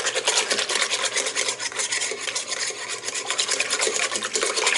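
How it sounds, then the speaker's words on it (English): Egg mixture for meatballs is whisked in a bowl, a close, steady rapid scraping and rubbing that runs continuously for several seconds with no talk. "So that gets whisked up, okay."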